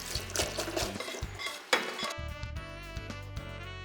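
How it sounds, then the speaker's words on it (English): Boiled sweet corn tipped into a metal strainer, with clattering kernels and utensil clinks close up over a steady background hum, one sharper knock midway. "Let us strain the sweet corn."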